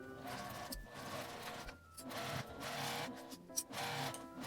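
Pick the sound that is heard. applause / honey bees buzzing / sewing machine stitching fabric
sewing machine stitching fabric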